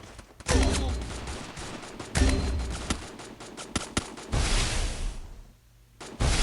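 Video game gunfire in a multiplayer shooter: repeated loud bursts and single sharp shots in quick, irregular succession, with a brief whoosh and a short quiet gap near the end.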